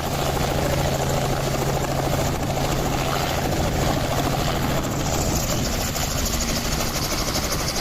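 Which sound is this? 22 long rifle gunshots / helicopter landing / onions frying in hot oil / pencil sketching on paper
helicopter landing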